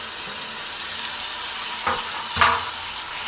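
Pieces of eggplant sizzle steadily in hot oil in a pan, with a couple of brief stirring scrapes over the constant close frying hiss.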